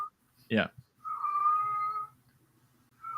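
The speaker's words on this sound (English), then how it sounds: "Can you hear the cat in the back?" A single drawn-out meow from a cat in the background, following a brief burst of voice, with another cry starting at the end.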